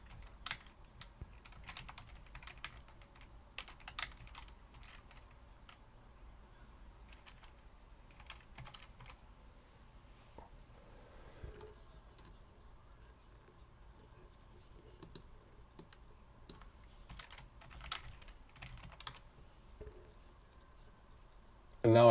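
Computer keyboard typing at a desk: scattered bursts of light, quiet key clicks with pauses between them, fairly close but soft over a low background hum.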